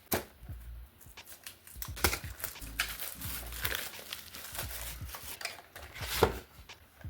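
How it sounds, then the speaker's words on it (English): Plastic wrap is torn and peeled off a Super Mario Bros Steelbook case, with close, irregular crinkling and sharp crackling bursts continuing throughout. "So let's bust the plastic open."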